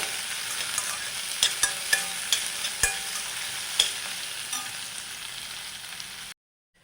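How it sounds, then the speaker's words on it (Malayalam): Ginger, garlic, shallots and green chilli shallow-fry in a pan, a bright continuous sizzle punctuated by several sharp stirring scrapes and taps, ending abruptly in silence. "ഇതെല്ലാം നമ്മൾക്കൊന്ന് പിന്നെ നന്നായി ഒന്ന് ഫ്രൈ ചെയ്തെടുക്കാം ഒരു ഒരുപാട് ഡീപ്പ് ഫ്രൈ ചെയ്തെടുക്കണ്ട ഷാലോ ഫ്രൈ ചെയ്തെടുത്താൽ മതിയാവും"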